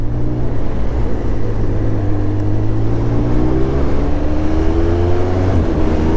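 A 2023 Triumph Speed Triple 1200 RS three-cylinder motorcycle climbs steadily in pitch as it accelerates, with a brief dip and recovery from a quick-shifter gear change, wind noise underneath.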